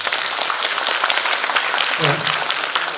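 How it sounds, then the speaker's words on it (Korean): A seated audience at a talk concert on integrity with the Andong mayor claps together in a dense, sustained burst of applause lasting several seconds, with a voice briefly audible underneath. "일단 박수 한번 치고 시작해보세요."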